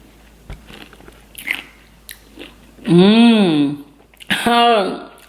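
Eating a thick smoothie bowl: close, soft bites and chewing near the start, followed by voiced sounds of enjoyment and appreciation.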